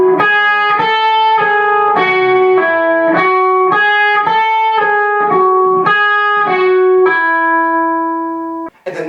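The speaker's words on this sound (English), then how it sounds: "And the example from the solo sounds like this." Electric guitar plays a melodic solo excerpt from a song in E, a steady run of clean sustained notes that ends on a long held tone, loud and close with no talking.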